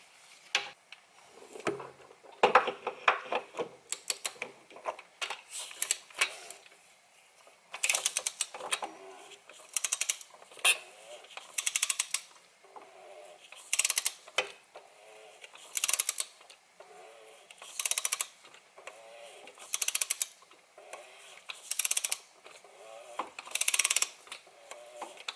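A torque wrench set to 18.4 pound-feet ratchets while tightening the oil filter housing on a BMW i8 during an oil change, producing repeated short bursts of clicking close by in a quiet space.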